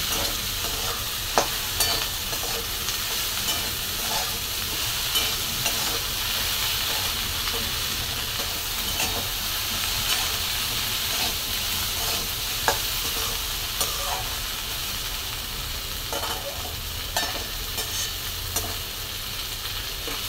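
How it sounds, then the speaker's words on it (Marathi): Okra curry being stirred in a pan, with a continuous hissing sizzle and soft, scattered scraping of the spoon throughout, no talking. "बघा छान मिक्स करून घेतले"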